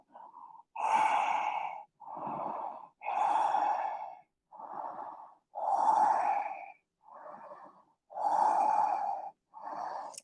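Slow, deep breaths during a held yoga pose in a vinyasa flow session, alternating full inhales and long sighing exhales, about eight breath phases, close and clear with no talking.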